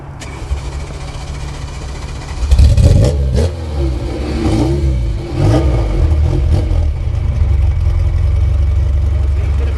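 A Ferrari 308 GT4 V8 engine cranks and catches partway through, then revs and settles into a deep, rumbling idle, loud and close.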